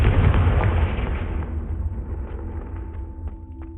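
A Confringo fire spell explodes in the Hogwarts Legacy video game, opening with a loud, close blast that settles into a long rumbling burn with a few small pops trailing off.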